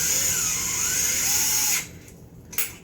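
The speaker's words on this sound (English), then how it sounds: "This little DeWalt stick drill 12 volt." A DeWalt 12 volt stick drill whirs at a high steady pitch, close and loud, then cuts off abruptly, leaving a quieter tail with a brief rattle near the end.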